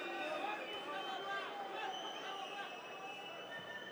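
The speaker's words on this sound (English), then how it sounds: "Frustration from the crowd." Arena crowd at an MMA title fight in Ljubljana murmuring and grumbling in frustration, a steady dense babble of many voices at constant level, with no single voice standing out.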